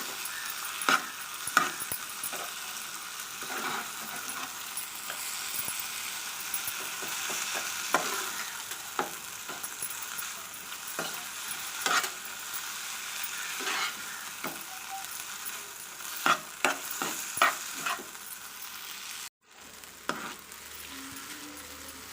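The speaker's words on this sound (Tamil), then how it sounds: "மஞ்சத்தூள் போட்டு நல்லா வதக்கிக்கலாம்." Turmeric is sautéed in a pan for mango rice, with a continuous soft sizzle and frequent spatula scrapes and clinks against the pan over a long stretch, quiet and close.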